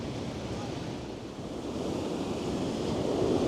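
Sea waves at high tide in Blackpool roll in as a steady broadband wash of surf, with wind buffeting the microphone throughout, growing slightly louder toward the end and with no voices.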